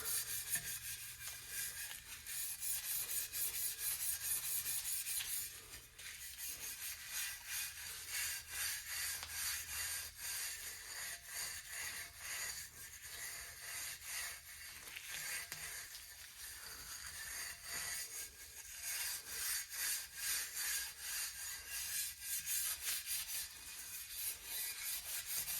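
Continuous scrubbing on a section of pipe of a Taylor 40 GT, a steady raspy back-and-forth rub repeated in quick strokes, close and loud throughout, with a brief pause partway.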